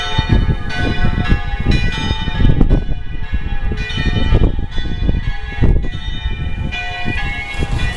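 Church bells of San Giacomo in Udine ring continuously and loudly, several bells overlapping in a dense, clanging peal with rich ringing overtones throughout.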